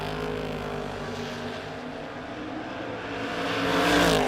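Drag race cars, including a 1965 Chevy wagon, racing side by side toward the finish line at a no-box 660 shootout, a distant sustained engine roar that swells louder near the end.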